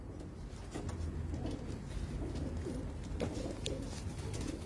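A pigeon coos softly and repeatedly at close range, a low murmuring call running steadily through the stretch with no voices over it.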